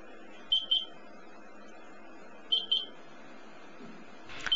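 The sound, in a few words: Minute Minder stove timer beeper sounding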